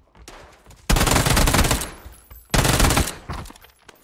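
Automatic Uzi fire in the video game PUBG comes in two sustained loud bursts, each lasting close to a second, followed by a shorter trailing burst.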